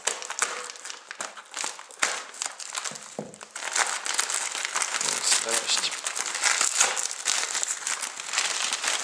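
Crinkling and tearing of packaging tape and wrapping, in irregular bursts up close, with someone talking over it.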